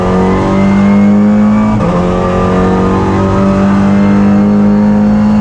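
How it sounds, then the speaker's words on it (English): A loud, steady whine from a straight-cut transmission gear rises in pitch over a droning car engine as the car speeds up, holding on with a brief dip midway. "That is a straight cut gear in the transmission making the noise."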